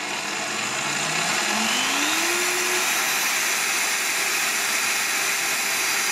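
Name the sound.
Lidl Parkside PTBM 710 A1 drill press running in first speed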